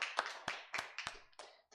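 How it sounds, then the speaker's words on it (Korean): Church congregation clapping hands together during a Sunday worship service, a loose burst of close, sharp claps that swell and fade over a couple of seconds. "하나님께 영광의 박수 돌려드리겠습니다."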